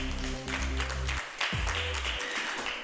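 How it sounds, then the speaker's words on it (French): A studio audience on a quiz show applauds, giving a dense, steady wash of clapping under a background music bed that shifts partway through. "Ouais, second, on peut applaudir."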